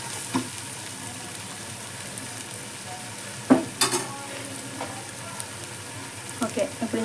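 Spices with ginger garlic paste frying in oil in a pan for a head curry, a soft steady sizzle with a few louder stirring scrapes and clinks, no talking.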